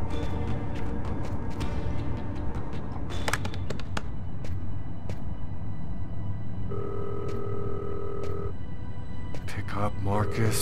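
A telephone rings in Fahrenheit: Indigo Prophecy, a steady electronic tone under game sound and chatter, while someone speaks over it.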